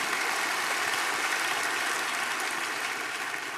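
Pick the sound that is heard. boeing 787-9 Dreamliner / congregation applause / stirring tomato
congregation applause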